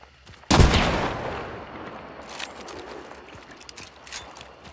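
A single loud, sharp gunshot using explosive ammunition in a video game, followed by a long decaying rumble and scattered clinks and faint clicks afterward.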